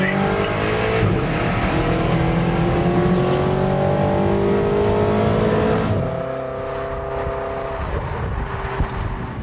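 A BMW XM plug-in hybrid's twin-turbo V8 accelerates hard through several gears, loud rising and falling engine tones close by, then drops to a lower drone as it eases off.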